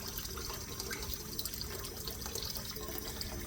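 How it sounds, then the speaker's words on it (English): Cold water running from a kitchen tap, a steady, fairly quiet broadband rush with small splashy flickers throughout, no voices. "I'm going to get cold water."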